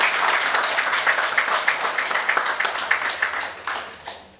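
A roomful of people gives a short burst of steady, close applause at a talk on falling sexual violence against girls. The clapping is dense and continuous and thins slightly near the end.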